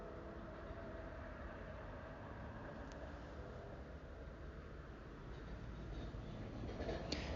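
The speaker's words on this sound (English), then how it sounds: "The sound of the train" Steady low rumble of a train passing at a distance, continuous and unbroken for the whole stretch.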